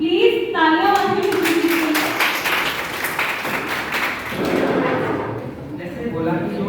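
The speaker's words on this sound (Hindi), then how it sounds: "विश्वजीत प्लीज तालियां बजाइए" An audience at a hospital debate event claps in a burst that swells and fades, with loud talking at the start and again toward the end.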